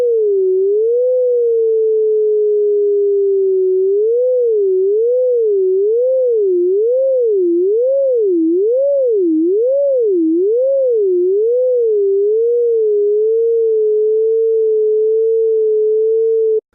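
A pure, steady drone synthesizer tone with its pitch wobbled by an LFO, starting nearly still, swinging into a wider, faster vibrato at the middle, then easing back to an almost steady hum, loud and alone.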